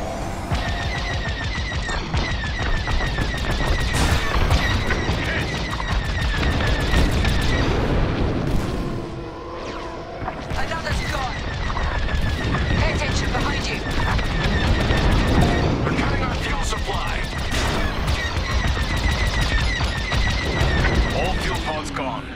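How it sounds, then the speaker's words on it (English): Star Wars Squadrons space battle on Xbox Series S: dense, continuous blaster fire and booming impacts fill the scene, with a brief lull midway before the barrage resumes loudly, under game audio and voices. "They're shooting at me!"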